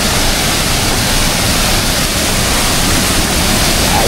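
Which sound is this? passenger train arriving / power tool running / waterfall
waterfall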